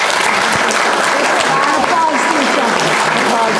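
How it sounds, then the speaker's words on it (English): Audience at a city candidates forum applauds the three candidates, a continuous wash of many hands clapping loudly and evenly, with faint voices mixed in under the crowd noise. "the audience at this point would probably like to give a round of applause for our 3 candidates"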